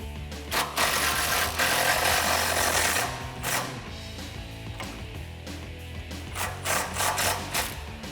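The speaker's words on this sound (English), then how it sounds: "we want to use our 13 socket to loosen up the clamp holding the muffler to the rest of the exhaust" Steady grinding and ratcheting of a 13 mm socket wrench loosening the muffler clamp on a 2011-2014 Ford Mustang V6 exhaust, close and continuous with rough scraping bursts and intermittent clicks, no talking.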